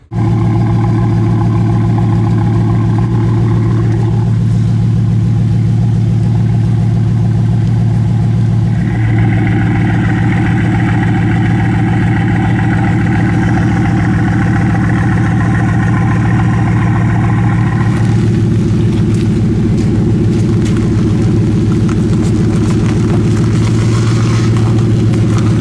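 A brand-new Bugatti W16 8-litre engine of around 1500 horsepower runs steadily at idle, a loud, deep, continuous rumble with a strong low hum and shifting mid-range roar that swells briefly in the middle.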